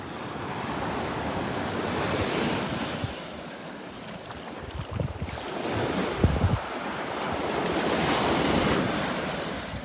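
Ocean surf rolls and breaks steadily along a Gulf beach at Delnor-Wiggins, a continuous wash of waves with wind buffeting the microphone, swelling and easing across the clip.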